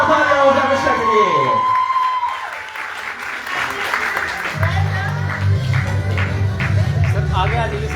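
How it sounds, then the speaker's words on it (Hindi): At the grand final of the Faridabad Talent Hunt 2025, held at Asian Hospital, an audience bursts into loud, sustained applause and cheering for category winner Mishka, after an announcer's voice at the start. "जोरदार तालियां हो जाए मिश्का के लिए"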